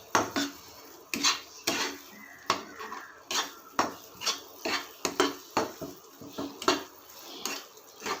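A utensil stirs milk khoa (palkova) in a pan, making repeated close scraping and clinking strokes against the metal at an uneven, steady rhythm.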